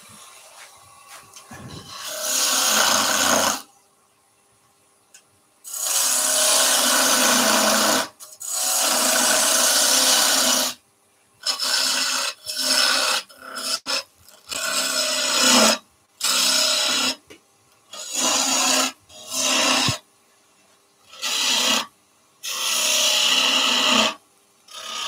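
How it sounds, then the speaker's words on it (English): Wood is cut with a spindle gouge on a spinning lathe in a series of harsh, scraping bursts of varying length, separated by brief pauses, close and fairly loud. "To do that, we're going to use the spindle gouge."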